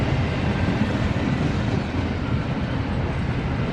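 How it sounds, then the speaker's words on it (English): A CSX train rumbles past close by, a loud, dense roar of wheels and rail noise filling the whole moment. "CSX has dozens of trains that pass through here on a daily basis"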